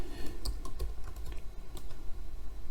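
A name is typed on a computer keyboard in a steady run of close, light key clicks over a constant background hum, with no talking.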